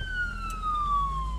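Ambulance siren sounding as it moves through a tourist town, a steady, loud, slowly falling wail heard from inside a car.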